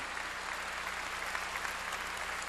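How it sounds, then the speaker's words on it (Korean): A church congregation claps together during a sermon, a steady, dense wash of applause that holds at an even level throughout with no voices standing out. "박수"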